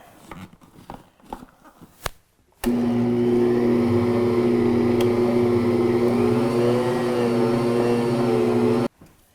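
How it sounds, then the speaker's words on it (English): A Bosch Universal Plus mixer motor kneads a large batch of bread dough, a steady loud whirring drone with a wavering tone that starts abruptly after some quiet handling knocks and cuts off near the end. "the motor might be able to handle it, but it's an awful lot of dough for just the bowl"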